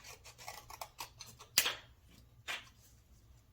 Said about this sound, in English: I'm going to fold this in half because I want them to be the exact same size. I'm going to go ahead and cut this.